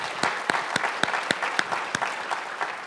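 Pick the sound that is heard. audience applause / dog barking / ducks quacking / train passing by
audience applause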